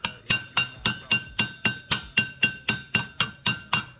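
A hammer strikes a metal rivet backed on an anvil, working around the edges to mushroom it while riveting leather straps; about fifteen sharp, ringing metallic blows land in a steady, even rhythm, close and alone without talk.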